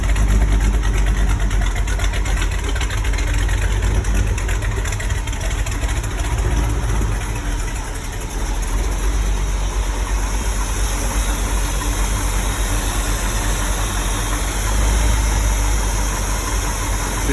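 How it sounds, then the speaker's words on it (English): 1974 Scout SS2 clone with a lumpy idle, a steady loud engine rumble running without letup, uneven and throaty, alone with no talk. "lumpy idle."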